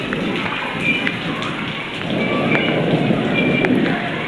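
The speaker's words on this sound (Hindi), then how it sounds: "बारिश," Heavy summer rain pours steadily outside a house, a dense hiss of drops on surfaces, growing a little louder midway, with no voices over it.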